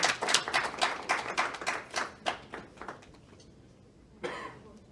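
A small audience at a literary reading series event claps for a reader, a quick patter of close handclaps that gradually thins and fades, followed by one brief late burst.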